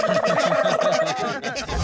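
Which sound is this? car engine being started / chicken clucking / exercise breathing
chicken clucking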